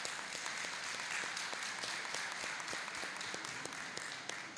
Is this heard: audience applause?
yes